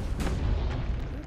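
A tank cannon fires in Assassin's Creed: Brotherhood, a booming blast over a dense, loud rumble with a fainter second report near the end.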